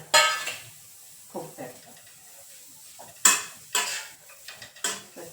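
Vermicelli being roasted and stirred in a pan, with a few sharp scrapes and clinks of a spoon against the metal at irregular intervals over a soft, faint sizzle, close by.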